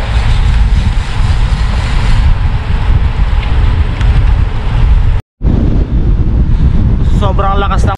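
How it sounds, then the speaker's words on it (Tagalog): Strong wind roars across the microphone of a cyclist riding a 100–200 km road challenge in Taiwan, a loud continuous buffeting broken by a brief dropout, with a voice briefly speaking near the end. "Sobrang lakas ng hangin, nagkakahiwa-hiwalay talaga kami."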